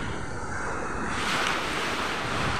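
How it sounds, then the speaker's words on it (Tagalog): Sea waves wash steadily at a beach resort, a broad continuous surf hiss with wind rushing over the microphone and no voices. "Oh, tingnan nyo yung dagat dito sa amin."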